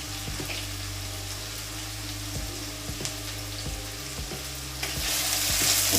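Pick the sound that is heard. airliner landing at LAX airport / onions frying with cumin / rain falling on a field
onions frying with cumin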